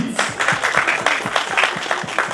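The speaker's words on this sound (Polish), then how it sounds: "Wielkie brawa dla Przyszowic!" Applause from a crowd at a regional tourist picnic in Gliwice county, Poland: steady, moderately close clapping from many hands, sustained without pause.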